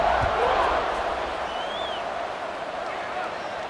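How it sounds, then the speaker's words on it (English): A football stadium crowd buzzes after a score, a broad, steady murmur and roar held at an even level beneath a commentator's voice. "this crowd is buzzing after that last score"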